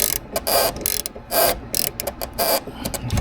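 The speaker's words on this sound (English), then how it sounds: "So this one is a 16mm ratcheting box wrench." A 16mm ratcheting box wrench clicking in quick irregular bursts of sharp ratchet ticks, loud and close, alone without talk.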